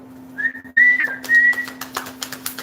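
Someone whistles a few short, clear notes close by, over a low steady hum, followed by faint clicks and rustling.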